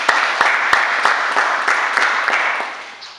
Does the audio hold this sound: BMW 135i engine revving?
no